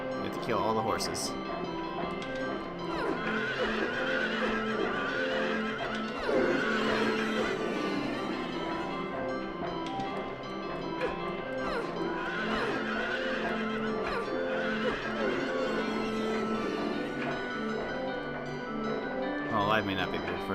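Neighing from carousel horses in the Silent Hill 3 video game, with whinnies rising out of a dense, continuous bed of game sound and music throughout.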